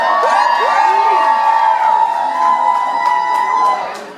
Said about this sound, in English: Let me hear you scream one more time.